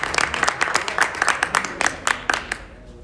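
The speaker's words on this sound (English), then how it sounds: "A big round of applause for you." A small concert audience claps at a music performance, a sparse round of distinct, fairly close hand claps in an uneven rhythm that thins out and stops after about two and a half seconds.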